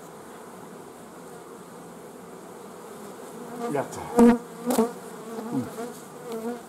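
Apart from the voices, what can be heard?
honeybees buzzing at an open hive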